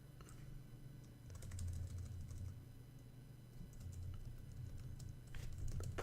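Continuous clicking of a computer keyboard while code is typed, quick irregular keystrokes at moderate level over a steady low hum, with no voices.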